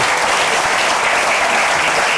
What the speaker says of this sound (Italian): Un applauso al direttore del teatro